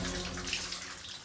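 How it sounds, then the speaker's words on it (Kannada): A shower left running in an empty bathroom gives a brief, steady spray of water, faint and continuous with no other sound. "ಇಲ್ಲಿ ಬಂದ್ರೆ ಶವರ್ ಆನ್ ಆಗಿದೆ"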